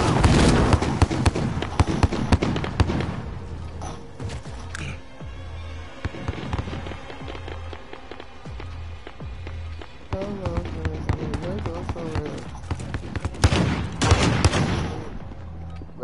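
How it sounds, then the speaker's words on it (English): Grenade explosions in Call of Duty Warzone: loud booming blasts with rumbling tails cluster at the start and again near the end, mixed with sharp gunfire cracks and quieter game sounds in between. "Grenades."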